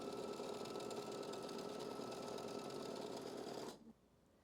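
An embroidery machine runs a lace zipper in-the-hoop design with a steady, faint mechanical hum and buzz. It stops abruptly near the end, leaving near silence.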